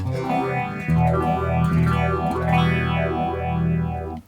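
Sustained distorted guitar chords swept by a deep, rhythmic Electro Harmonix Bad Stone phaser pedal at an intense setting, sweeping up and down continuously and loudly.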